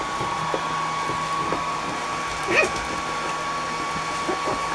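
A blow dryer runs steadily with a constant whirring drone throughout, close and fairly loud, with a few faint knocks and stirrings from animals nearby.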